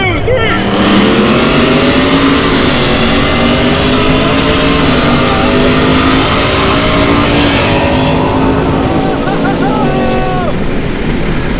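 A Ford F-150 Lightning electric truck drag racing supercharged and EcoBoost F-150 pickups, a loud continuous engine roar with rising whine and shifting pitch across the run, with voices faintly mixed in.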